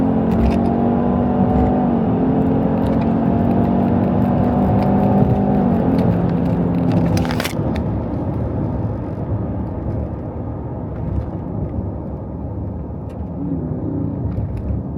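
Livernois-tuned 2021 Lincoln Aviator GT accelerating hard in performance mode, a loud rising engine roar climbing through the revs, then a sharp burst of wind noise and a quieter, steadier rush of cruising.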